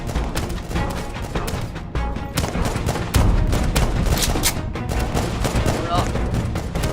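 Rapid sniper and tower gunfire in a Roblox tower-defense battle, a dense continuous barrage of sharp synthetic shots with heavier impacts, loud and steady throughout under faint background voices.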